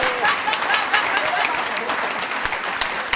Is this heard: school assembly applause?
yes